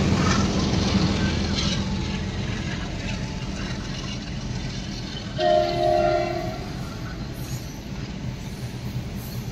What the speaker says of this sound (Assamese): বৰ্তমান ৰখি আছোঁ ট্ৰেইনৰ কাৰণে ট্ৰেইন আহিছে মানে